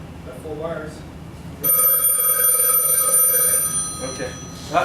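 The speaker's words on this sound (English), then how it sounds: "I hear a ring." A telephone ring from a browser-based Flash call, shown live at FITC Toronto 2009, sounds loud and close as a steady tonal ring starting partway in, with talk before it and more talk as it ends.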